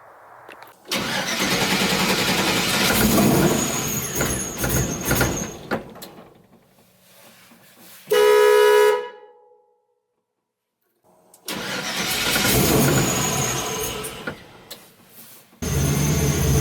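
Engine of an LS-swapped Chevy C10 cranking, then catching with a loud burst and idling roughly before stopping, followed by another crank and start; loud and close with no talk.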